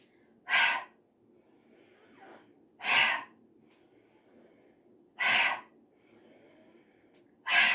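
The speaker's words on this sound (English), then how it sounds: "maybe just thinking about that stress that you're releasing now as you exhale through your mouth" Four audible exhalations out through the mouth come at regular intervals of about two and a half seconds during a yoga de-stress exercise. Each is a short, close, breathy whoosh with quiet pauses between.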